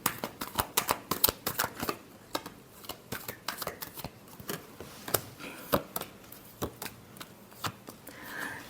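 Tarot cards are shuffled by hand in quick, close riffling bursts of crisp papery slaps, dense at first, then sparser and more irregular. No voices.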